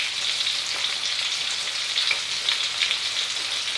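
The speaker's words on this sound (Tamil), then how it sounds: "ப்ரான் வந்து நல்லா சுருண்டு வர வரைக்கும் அதை ஃப்ரை பண்ணிக்கோங்க" Prawns frying in a pan for Indonesian-style fried rice produce a steady bright sizzle with scattered small crackles, close and even throughout, with no talking.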